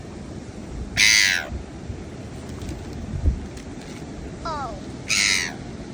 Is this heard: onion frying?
no